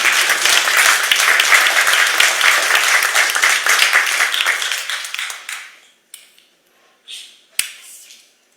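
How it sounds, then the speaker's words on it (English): Congregation at a multi-platform worship service clapping hands loudly and steadily for several seconds, then tapering off quickly into a few scattered claps and quiet. "This is a clap your hands off moment."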